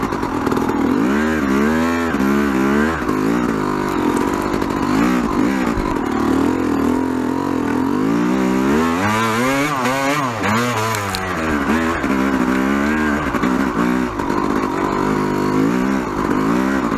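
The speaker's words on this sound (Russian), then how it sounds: "Газанул." Enduro motorcycle engine revving hard while riding across snow in third gear, loud and continuous with pitch repeatedly climbing and falling as the throttle is opened.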